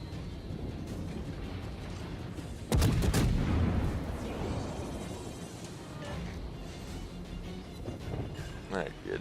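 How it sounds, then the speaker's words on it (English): Warship gunfire in World of Warships, a sudden loud salvo of heavy booms followed by rumbling decay, with a few lighter distant shots later; someone talks over it throughout. "he's just randomly popping off shots trying to kill me."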